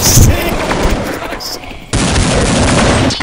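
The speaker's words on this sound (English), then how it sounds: "I shoot my deagle and then you jump." Desert Eagle pistol fire in Counter-Strike 1.6, heavy loud shots with dense, noisy bursts and a short gap between volleys, close to the listener.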